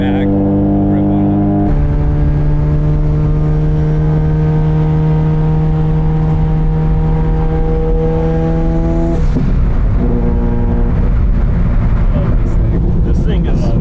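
Tuned 800 whp Subaru STI accelerating hard, its engine note climbing loudly through a long pull, then a brief shift and a renewed rise, heard from inside the car over constant road roar.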